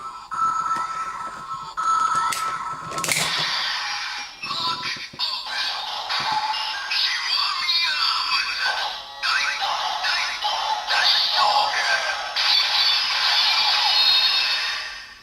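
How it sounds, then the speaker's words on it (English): A busy electronic toy sound effect from a Kamen Rider Gaim DX Kiwami Lockseed toy: chimes, bursts and a sharp crash give way to a loud, sustained jingle of synthesized music, with no talking. "that's the sound of the henshin sound on the show"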